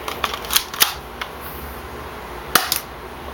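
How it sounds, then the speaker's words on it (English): A battery-powered airsoft Colt pistol, painted black, gives a few light, sharp clicks and snaps close by, with one crisper pop near the middle as a BB is fired by accident. "I accidentally shot a BB"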